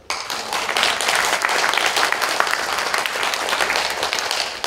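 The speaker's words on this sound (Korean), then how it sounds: "박수 한번 쳐주세요" Audience applause fills a lecture in the large conference hall of the National Assembly members' office building, a steady dense clapping from many hands that holds through to the end with no talk over it.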